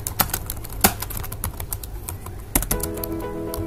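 Typing on a computer keyboard while writing in MS Word 2007: rapid, close key clicks in an uneven rhythm with a few louder strikes, no talking.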